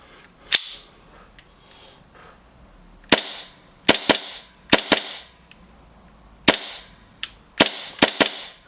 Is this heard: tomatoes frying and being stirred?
no